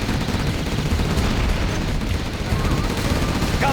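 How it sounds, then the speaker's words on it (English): A Gatling gun in the video game Command & Conquer Generals fires as one long, dense, unbroken roar of rapid shots that stays loud and steady throughout, with battlefield noise around it. "Gun barrel spinning."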